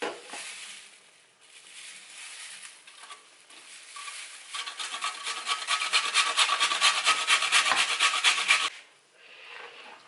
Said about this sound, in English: grate my pepper.